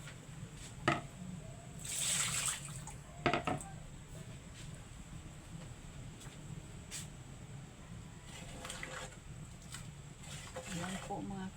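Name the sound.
water being added to a pot of mung bean stew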